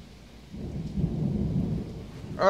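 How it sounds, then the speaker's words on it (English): Severe summer thunderstorm with a steady wash of heavy rain and a low, rolling rumble of thunder that swells after a quiet start and holds loud to the end, no voices. "This is a really bad storm right now. It's definitely severe"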